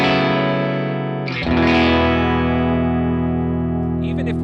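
Clean electric guitar chord with a small blend of Chase Bliss Warped Vinyl pedal effect, sustained and slightly warbling, with a fresh strum midway and a brief bright accent near the end.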